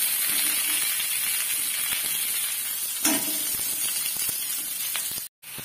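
Spiced pointed gourd curry cooking in a pan at night, with a steady close sizzling hiss of masala frying in oil that runs unbroken, one brief louder crackle partway through and a short drop-out near the end.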